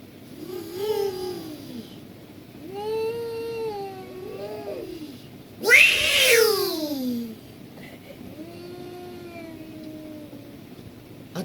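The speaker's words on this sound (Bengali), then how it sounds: "এইবার শুনতে পাবেন আপনারা যে বিড়ালে বিড়ালে মারামারি করলে কেমন হয়" Cats fighting: drawn-out yowling cries in several bursts, rising into a loud shrieking screech midway before settling back into lower moans, close and without talk.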